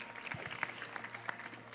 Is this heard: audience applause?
yes